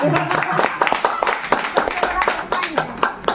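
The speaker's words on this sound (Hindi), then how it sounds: "एक बार पैसे के लिए ताली होना चाहिए" Scattered clapping from a small group of people at a network marketing training session, uneven and close, with voices talking over and between the claps.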